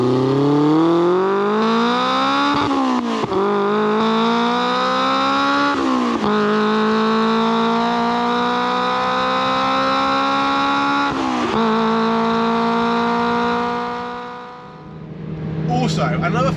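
An engine-swapped Toyota MR2 pulls hard in third gear, engine note climbing steadily through several sustained rising sweeps with brief dips at shifts or lifts, loud and close from inside the car, fading out near the end.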